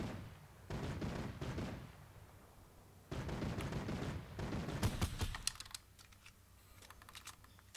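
Bursts of rapid gunfire in a shooter video game, two sustained volleys with a pause between, followed by scattered single shots fading out.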